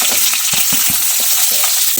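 Onions crackle loudly in a pan with mustard seeds and cumin, a dense close-up frying sizzle punctuated by quick rhythmic stirring clicks throughout.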